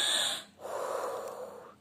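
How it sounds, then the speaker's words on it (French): A child-friendly calming exercise of breathing in and out very strongly: a sharp, hissy inhale, then a brief pause and a longer, softer exhale, close and alone. "Et on peut aussi respirer très fort."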